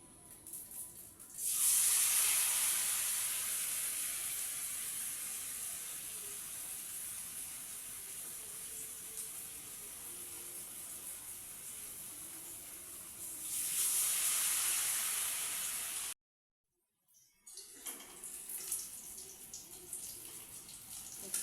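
Battered ash gourd filling frying in hot oil, a steady loud hiss and sizzle that surges as pieces go in, fades slightly, swells again, then cuts out before resuming more faintly.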